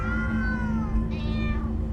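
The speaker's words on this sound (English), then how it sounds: "Ah, many cats, so many cats." Cats meow in Minecraft: Story Mode, several drawn-out, pitch-sliding cries overlapping over a steady low hum, close and clear with no talking.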